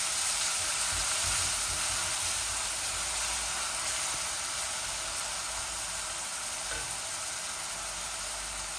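Onions sizzle with garam masala in a hot pan, a steady close hiss of frying that runs evenly throughout with no talking.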